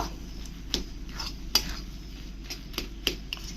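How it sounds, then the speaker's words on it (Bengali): Grated coconut mixed with cardamom powder is stirred in a pan for coconut laddus, a spoon scraping and tapping against the metal in faint, irregular knocks over a low steady background hum. "ভালো করে এরকম করে নাড়াতে থাকবো"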